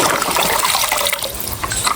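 Water splashes and sloshes as a toy car is washed, a close, continuous liquid churning with bubbly trickles throughout.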